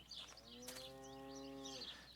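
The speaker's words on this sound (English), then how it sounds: "Cows." A single cow moos once in the Italian countryside of the horror game Martha is Dead, a drawn-out, tonal low call lasting over a second, heard faintly against a soft outdoor ambience with light birdsong.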